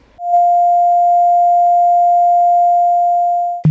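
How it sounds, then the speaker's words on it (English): A steady, pure electronic tone holds at one pitch for over three seconds, loud and clean, ending abruptly with a short click. "Here is an example of a sine wave"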